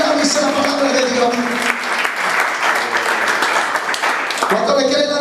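Loud applause from a church congregation during a sermon, a dense, lively wash of clapping lasting several seconds, with voices mixed in beneath it.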